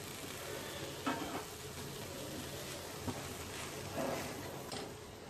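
Drumstick leaves with grated coconut stir-frying in a pan, a steady soft sizzle with a few louder scraping stirs of the spoon spaced through it.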